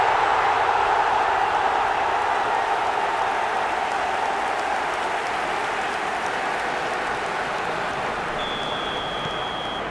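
Stadium crowd noise from the eFootball 2026 football video game, a steady broad roar with no break across the whole stretch.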